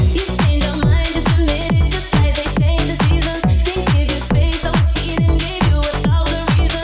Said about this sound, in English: now we can move on to the bass stab